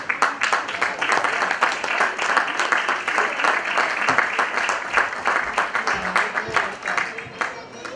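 A live audience at a music performance claps steadily in dense, continuous applause that fills the room before tapering slightly.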